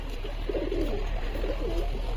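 A male loft pigeon coos in low, warbling phrases, close but fairly soft over a steady background hum.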